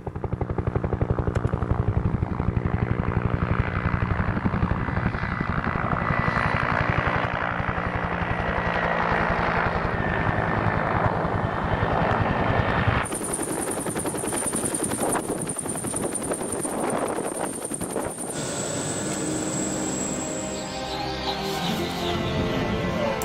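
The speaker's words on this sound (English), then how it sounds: "before the chopper woke us both from our dream" A helicopter approaches for a pickup in a remote polar setting, its rotor and engine roar loud and steady throughout, with the tone shifting partway through as it nears or settles.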